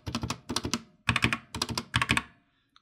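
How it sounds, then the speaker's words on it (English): Shift key on a GK61 RGB mechanical keyboard with crystal crown clear keycaps, pressed repeatedly in quick clusters, giving close, crisp clacky strikes in five bursts before falling silent. "And this is the shift key."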